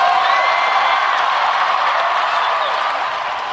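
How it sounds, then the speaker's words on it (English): Political rally audience cheering and applauding in a loud, sustained wash of clapping and crowd noise that holds steady before easing slightly toward the end. "you could hear right there huge applause and a woman in the crowd saying, horrible"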